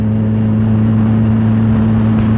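A Kawasaki Ninja 1000 motorcycle being ridden gives a steady, droning engine hum with strong low tones and rushing wind noise, loud and continuous from up close.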